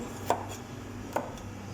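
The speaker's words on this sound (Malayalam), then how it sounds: "പിന്നെ അതാ വെണ്ടക്കായ അങ്ങനെ അരിഞ്ഞ് കൂട്ടുന്നുണ്ട്" Okra being sliced on a kitchen board, two sharp knife chops about a second apart, close and fairly quiet over a low background hum.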